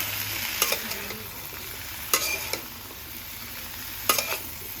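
Spices with ground cumin paste sizzle in a pan, broken by three distinct bursts of stirring scrapes, close and moderately loud with no voices.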